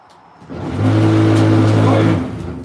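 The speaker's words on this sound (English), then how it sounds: "Let's put the vibrator on and let's see if this thing starts shifting around." A vibrator set running beneath a small mask mold gives a loud, steady mechanical hum that builds in, holds for about a second and a half, then cuts off.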